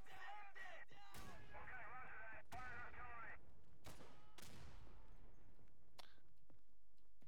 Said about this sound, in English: We need that artillery right now!